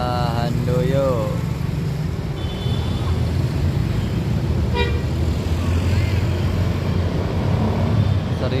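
An Indonesian bus sounds its telolet horn on a busy roadside, bright tonal toots standing out over traffic noise and passing engines, with people talking nearby.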